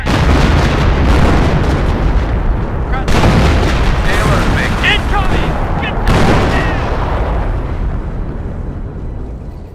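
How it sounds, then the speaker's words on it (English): Artillery shells and explosions boom continuously in a Company of Heroes battle, a dense, loud rumble with sharper blasts near 3 and 6 seconds, fading slightly toward the end. "Krauts are throwing artillery at us."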